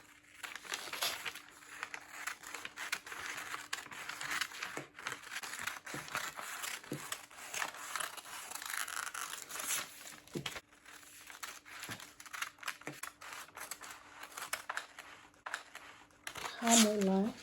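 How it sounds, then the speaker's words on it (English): Scissors cut a paper sewing pattern for an off-shoulder back with a Basque waistline, with close, faint paper crinkling and snipping continuing throughout under occasional talk. "So I'm going to cut this out."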